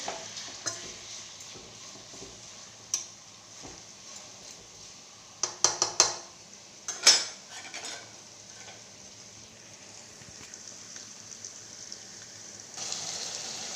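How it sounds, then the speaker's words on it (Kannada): Coriander and curry leaves fry in a pan with a low steady sizzle close by, broken by several sharp scraping clatters of a spoon stirring against the metal and a louder hiss near the end. "ಸ್ವಲ್ಪ ಕೊತ್ತಂಬರಿ, ಕರಿಬೇವು ಹಾಕಿ ಚೆನ್ನಾಗಿ ಫ್ರೈ ಮಾಡ್ಕೊಳ್ಳಿ."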